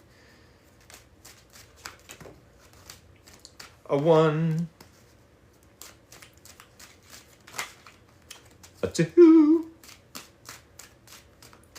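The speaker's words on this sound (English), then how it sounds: "We need 3 more shuffles." Tarot cards are shuffled in quick riffling bursts with light clicks and taps between, while a person speaks briefly.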